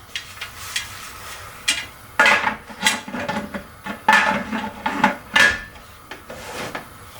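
A metal lid set onto a pressure canner pot on the stove, a cluster of clanks and scraping knocks in short bursts, close and moderately loud with no talk.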